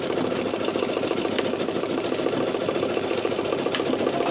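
A sewing machine stitching a quarter-inch French seam on a fabric utility bag, a fast steady mechanical whir with rapid needle ticks, close and continuous with no talk.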